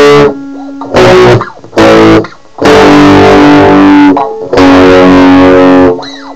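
Distorted electric guitar plays a riff in separate loud phrases with brief gaps between them, heavy and close, and no voice over it.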